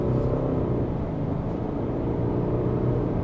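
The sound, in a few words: 2025 Subaru Outback Touring XT engine at partial throttle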